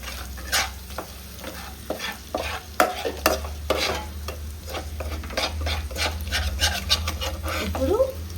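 Chicken curry with garam masala being stirred in a pan, with a spoon scraping repeatedly and a low sizzle running underneath throughout.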